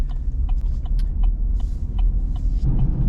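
A truck rolls along a road, its low engine and tire rumble steady and loud from inside the cab, with faint rattles and clicks above the drone.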